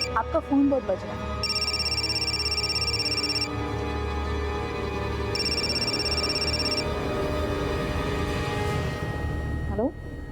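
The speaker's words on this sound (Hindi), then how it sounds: "आपका फोन बहुत बज रहा है।" An electronic phone ringtone sounds in two long tonal bursts, separated by a pause, over a low background hum.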